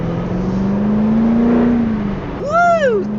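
A powerful car engine accelerates, its pitch climbing smoothly as it pulls hard, then dipping; near the end a voice lets out an excited rising and falling whoop over the engine.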